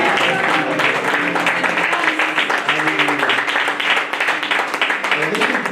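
A church congregation claps and cheers to praise the Lord, steady loud applause filling the room throughout as a preacher's voice carries over it.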